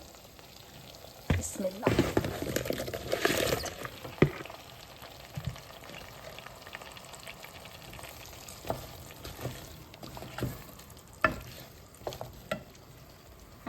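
Ridge gourd dropped into hot spiced oil that has been fried down until the oil separates, giving a burst of loud sizzling followed by steady frying and intermittent clatter of stirring; a brief spoken word near the end.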